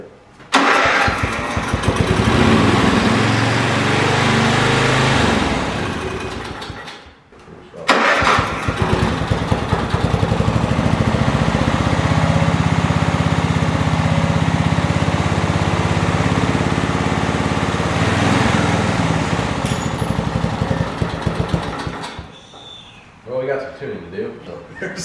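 The engine of a Simplicity garden tractor on a budget power build starts and runs loudly up close, cutting out briefly before restarting into a steady rough drone, then dropping away near the end.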